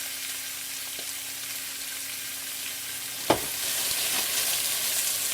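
Beef cheeks sizzling in a hot pan for braising, a steady bright hiss throughout with a single sharp clatter partway through, close and even.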